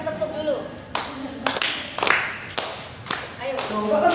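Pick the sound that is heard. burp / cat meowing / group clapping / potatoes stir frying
group clapping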